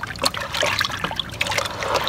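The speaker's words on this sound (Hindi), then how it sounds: "अब इसको पानी को गंदे को निकालते हैं, इसमें निकाल के फिर साफ पानी डालते हैं" Dirty wash water is poured out in a continuous splashing trickle while gold jewellery is being cleaned, close and fairly loud, with irregular drips and splatters throughout.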